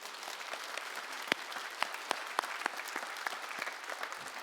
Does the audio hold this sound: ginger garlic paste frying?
no